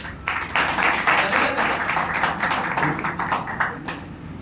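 A crowd at a political party meeting claps in a dense, sustained burst of applause lasting several seconds, with scattered louder claps toward the end.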